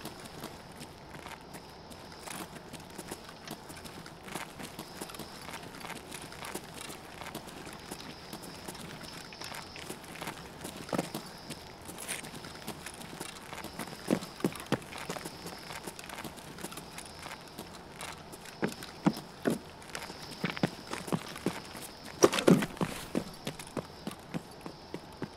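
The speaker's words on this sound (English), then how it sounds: "Gotta listen for the footstep." Footsteps in the video game Escape from Tarkov, soft repeated steps and shuffles scattered through a low background hum, with a few sharper knocks near the end and no one speaking.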